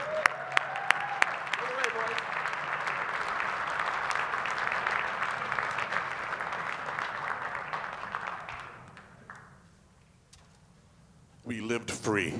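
A theater audience at a String Fling show at the Scranton Cultural Center claps for a music act, with a few whoops early on. Dense, sustained applause fades out after about eight seconds, then a voice starts speaking.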